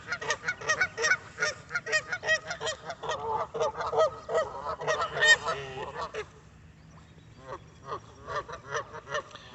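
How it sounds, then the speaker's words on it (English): A flock of geese honking loudly and repeatedly by the water, a dense chorus of overlapping calls that drops off to a few scattered honks near the end. "I have angered the geese."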